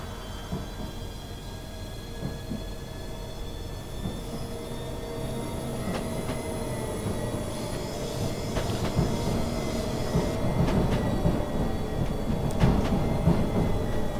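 A Class 395 electric train in Train Simulator rumbles steadily and builds as it departs London St Pancras, with rhythmic wheel clatter and occasional high squeals over a low hum; no voices.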